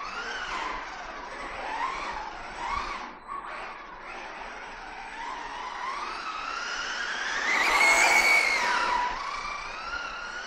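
A Maverick Quantum R Flux 4S RC car on stock tyres runs across a parking lot, its electric motor whining and rising in pitch as it accelerates and passes close, with tyre scrub in between.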